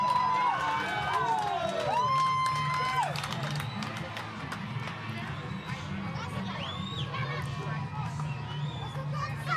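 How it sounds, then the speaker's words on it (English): A home crowd cheers at a rugby match, FNB Kudu I against FNB Dolphin I, a broad steady roar of voices and whistles under commentary, with shrill whistle-like tones rising and falling early on. "A lot of support, as you can hear, from the home crowd."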